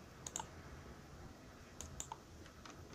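Quick clicks of a computer keyboard during office furniture design work, a couple of fast keystrokes, a pause, then a few more, close and fairly faint over a quiet room hiss.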